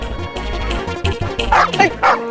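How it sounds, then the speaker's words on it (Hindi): A dog barks a few times in short yips and woofs, close by, over a busy background with some low rumble. "भौंक क्या रहा है?"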